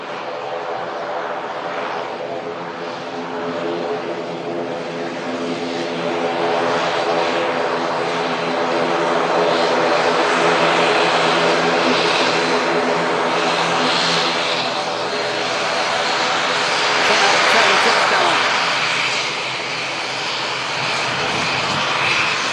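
A propeller airplane departing Manchester Airport gives a loud, sustained engine drone with a steady tonal hum that swells gradually and holds without pause.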